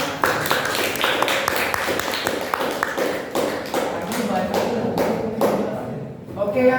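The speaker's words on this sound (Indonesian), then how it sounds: "Oke, tepuk tangan." Hands clapping in a classroom, a brisk run of sharp claps repeated through the stretch, fairly close, with a murmur of students beneath and a few voices near the end.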